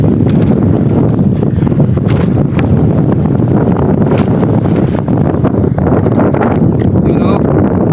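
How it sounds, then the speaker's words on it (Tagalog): Strong northeast monsoon wind, the amihan, buffeting a small net-fishing boat at sea, a loud, steady roaring rush over the hull and water, with voices faintly mixed in. "Lumakas ang amihan, wala kang pahuli bigla."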